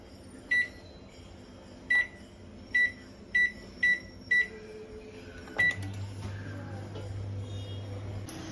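A convection oven being set to preheat for pizza gives a series of about seven sharp electronic beeps at irregular spacing, then a low, steady hum as it starts running, close by in a quiet kitchen.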